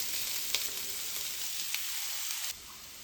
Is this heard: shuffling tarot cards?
no